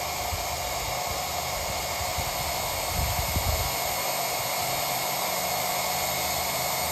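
A Harbor Freight model 63316 transfer pump runs with a continuous loud, hissing whine, steady throughout with slight rumbling fluctuations near the middle and no talk.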